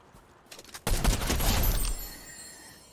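Video game gunfire bursts out loud after a quiet start, a dense volley of shots that holds for about a second and then trails off into a fading echo.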